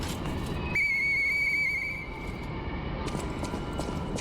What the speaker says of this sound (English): I'm gonna blow the whistle.